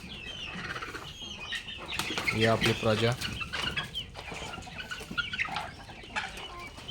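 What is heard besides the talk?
backyard chickens clucking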